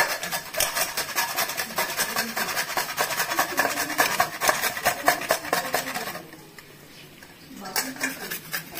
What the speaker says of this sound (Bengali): একটু গ্রেটারে ঘষে নিব।